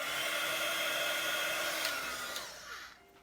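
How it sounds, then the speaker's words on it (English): A heat gun drying loose watercolour paint gives a steady, moderately loud blowing hiss close by, then cuts off and winds down with a falling motor whine, with no speech. "I need a heat gun with me."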